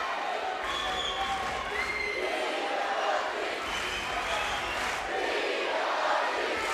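Crowd cheering and calling out at a judo Grand Slam event in Tel Aviv, a dense, steady roar of many voices filling the arena throughout, with commentary voices mixed in.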